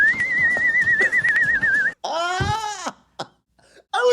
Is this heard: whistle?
yes